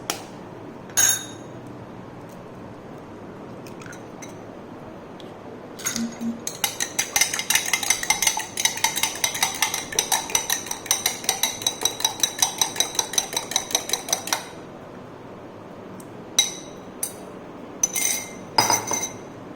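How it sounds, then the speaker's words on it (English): An egg is cracked into a bowl with a few sharp taps. A long run of rapid glassy clinks follows, then more scattered taps near the end, all without talking. "I'll just crack one more egg on this"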